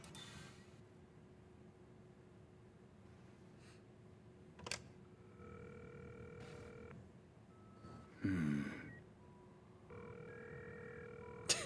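Payphone in the Cyberpunk 2077 game, heard as a steady hum with repeated electronic tone bursts and clicks of handset handling, fairly faint and close, with no talking.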